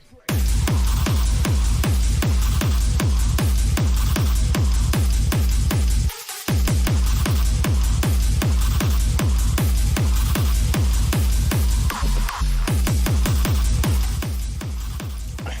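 A full music track plays loud and dense throughout, with a steady pounding kick drum driving the rhythm and a melody riding behind it, briefly dropping out for a moment near the middle before resuming.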